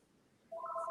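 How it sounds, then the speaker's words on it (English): A telephone begins ringing partway through, a steady electronic two-tone ring that comes in loud and clear over a quiet background hum, with no talk. "that's my fridge mechanic ringing me"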